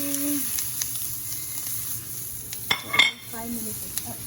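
Onion sizzling in a pan alongside shrimp and hot peppers, a steady close fry with a few stirs and clinks of utensil against the pan, brief voice sounds in the background.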